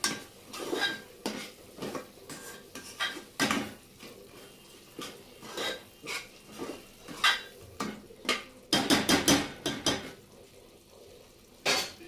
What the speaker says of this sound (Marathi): आता या सर्व भाज्या ज्या मी धुवून घेतल्या आहेत त्या आता याच्यामध्ये आपण टाकूया